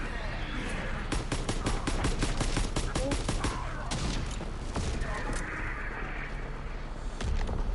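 Gunfire rattles through a World War II shooter game in rapid, repeated close bursts of sharp cracks, with brief pauses and a few isolated shots later, under a continuous background of game noise and occasional talk.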